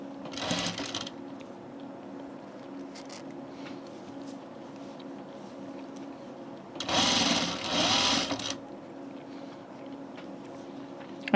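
A sewing machine stitches a shirt seam in two short, loud whirring bursts, one at the start and a longer one near the middle, separated by a quieter steady hum.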